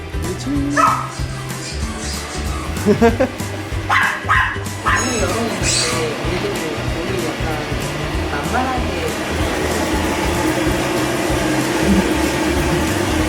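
Several dogs bark, yip and whimper at a dog daycare and grooming shop, with poodles present, the barking bursting out in the first half over a steady hum like a hair dryer, while people talk.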